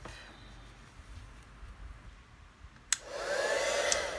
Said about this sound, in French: je vais sécher avec mon heat gun